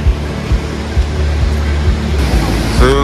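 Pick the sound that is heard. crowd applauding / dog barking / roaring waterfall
roaring waterfall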